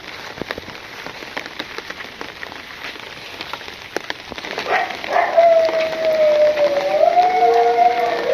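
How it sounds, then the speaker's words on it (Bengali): Rain falling outdoors in a village, steady patter and scattered close drips hitting surfaces, joined later by a thin, drawn-out tonal call over the downpour. "বৃষ্টি হয়ে গেল"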